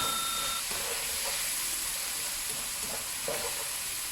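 Mushrooms sizzling in a pan over low heat, a soft continuous hiss with occasional faint stirring scrapes, close and alone without talk.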